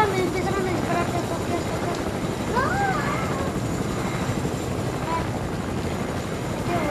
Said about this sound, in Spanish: me robé el helicóptero